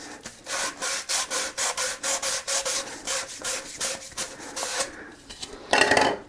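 Emery cloth scuffs the outside of PVC drain pipe ends during double-sink bathroom plumbing, in a quick run of rhythmic rasping strokes, close and steady, that pause briefly and end with one last harder rub.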